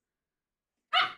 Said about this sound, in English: puppy's fighting my punch bag over there.